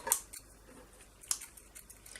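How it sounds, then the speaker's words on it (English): A couple of brief, crisp snips of scissors cutting, separated by about a second, quiet and close against a faint background. "I've got the sharpest pair of scissors I own, not."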